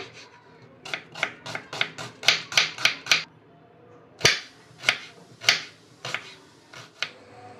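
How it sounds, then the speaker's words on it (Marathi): A knife finely chops an onion on a board, a quick series of crisp taps that comes in rhythmic bursts with short pauses between them, close and clear with no talk. "आपल्याला ना एक कांदा लागणार आहे, आपण तो छान बारीक चिरून घेऊया।"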